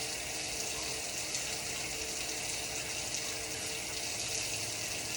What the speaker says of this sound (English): I then rinse, and you rinse from fingertips to elbow